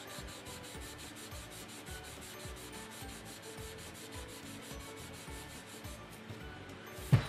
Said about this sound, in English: if I go and I take this felt and I start rubbing it